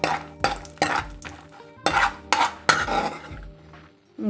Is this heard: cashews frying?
yes